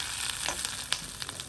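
Sliced onion and green chili sizzle gently in hot oil for a tempering over a low flame, a soft, crackling hiss with a few small pops, brief and fairly quiet.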